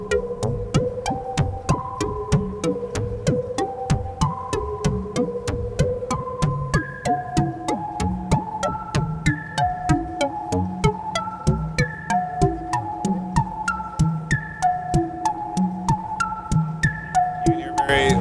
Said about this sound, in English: You can hear very pure sine waves.